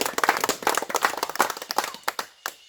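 A small group claps hands during a permaculture tour at an ayahuasca retreat near Iquitos, Peru, brisk close applause that thins to a few last claps at the end.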